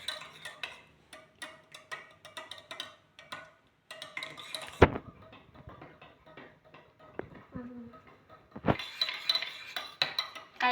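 A spoon stirs chocolate milk in a cup, making close, irregular clinks and taps against the sides, with brief pauses and a louder scrape near the end.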